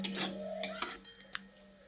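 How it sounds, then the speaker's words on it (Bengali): Spoon stirring and mixing a vegetarian flat bean and poppy seed dish in a pan, a few close scraping and clinking strokes against metal over a faint low hum. "এবার আবারও সব কিছুকে ভালো করে একসঙ্গে নেড়ে চেড়ে মিশিয়ে নিচ্ছি"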